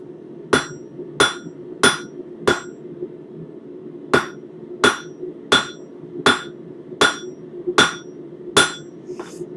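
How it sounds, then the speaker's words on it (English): Hammer blows on hot metal at a forge, flattening a tip and shaping a shelf: about a dozen sharp ringing strikes at a steady rhythm, close and loud, over a constant low hum, with no talking. "And we get these nice flat hammer marks."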